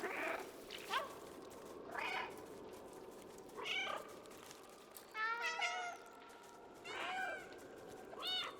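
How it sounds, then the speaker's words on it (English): Several cat meows from the video game Stray come in separate bursts, some short and some drawn out and wavering, over a low steady game backdrop with no talking. "You guys like the symphony of meows?"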